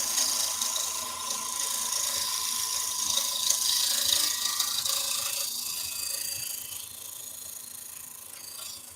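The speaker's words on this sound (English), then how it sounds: "I've got prepped and ready, is one of my carbide tip tools. In fact, we'll give it a little go" A carbide-tipped turning tool cuts wood on a lathe, giving a steady, bright, hissing scrape with a whirring mechanical hum underneath, continuous throughout and fairly close, with no talk.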